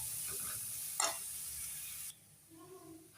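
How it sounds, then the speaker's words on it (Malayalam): Crushed ginger, garlic and pepper frying with mustard seeds in hot oil give a faint, steady sizzle and hiss with a brief stirring clatter, the sizzle dropping away partway through to quiet background noise. "കടുക് വറുത്തിട്ട് നമ്മൾ ചതച്ച് വെച്ച് ഇഞ്ചിയും വെളുത്തുള്ളിയും കുരുമുളകും ഒക്കെ ഇട്ട് കൊടുത്തിട്ടുണ്ട്."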